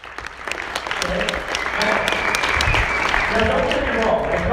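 A crowd at a talk bursts into applause that swells and holds loud and dense, with some voices mixed into the clapping.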